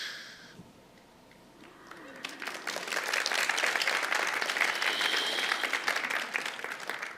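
A seminar audience breaks into applause that swells after a quiet start and holds as dense, loud clapping to the end.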